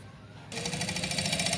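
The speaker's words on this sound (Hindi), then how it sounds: "अब हम इसकी फिटिंग की सिलाई लगाएंगे अंदर की" Sewing machine stitching the inner fitting seam of a trouser waistband; after a brief quiet moment, a fast, even mechanical whirring with rhythmic needle clatter begins close by and continues steadily.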